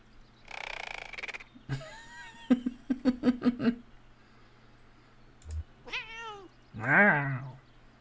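A cat meows in the video game Kentucky Route Zero, with several rising, wavering meows, one drawn-out yowl, and a rapid series of clicking sounds between them, close and clear.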